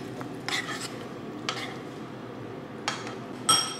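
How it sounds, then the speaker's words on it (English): Oatmeal being stirred in a pot at breakfast, a spoon scraping and clinking against the pot in a few short separate strokes, close and fairly quiet against low background noise. "You're gonna stir it."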